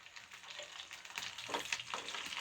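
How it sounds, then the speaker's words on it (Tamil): Garlic sizzling and frying in hot oil in a pan with mustard seeds that have just popped, a steady crackle with a few louder pops, close and alone with no talking. "இப்போ இதில் இந்த பூண்டு ஆட் பண்ணிடுறேன்."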